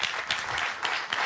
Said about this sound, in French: On va applaudir Muriel pendant ce temps